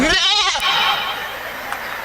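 A goat gives a single wavering, quavering bleat that is close and loud, followed by a low rumble of background noise and faint murmuring.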